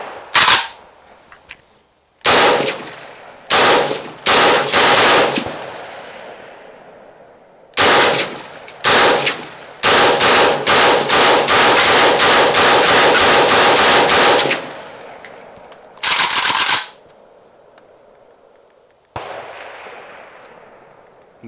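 An AMD rifle fires a 20-round magazine in loud, sharp outdoor shots, starting as scattered singles and pairs and then a rapid, evenly spaced string, each crack trailing a ringing echo.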